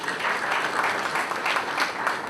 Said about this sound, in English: Can I have a round of applause for her, please?